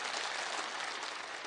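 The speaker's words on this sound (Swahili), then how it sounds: "Naomba tupigie makofi deputy president." A church fundraiser audience applauds the deputy president with sustained, dense, even clapping from a large crowd, heard alone without any speech.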